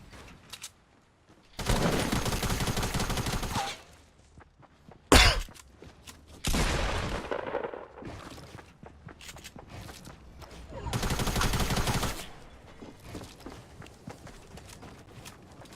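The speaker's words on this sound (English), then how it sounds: "He was shooting at us, or he was shooting at somebody" Bursts of rapid gunfire from a Fortnite battle royale match, several loud volleys a few seconds apart with quieter game ambience between, no talk heard.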